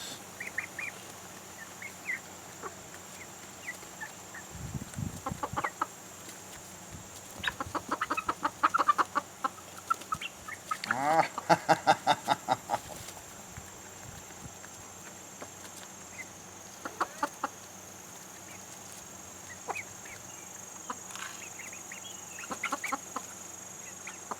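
Chickens at a chicken coop clucking in scattered bursts, with sharper clusters of calls around the middle and quieter intermittent clucks later, close by over a faint steady background hum.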